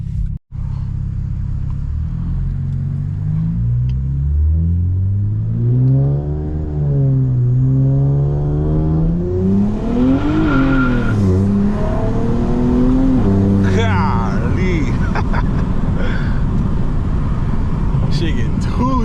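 A 500 whp Infiniti Q60 on air suspension pulls hard from inside the cabin, the engine note climbing through rising revs with a brief shift dip, then roaring louder toward the top, and a voice speaking briefly over it.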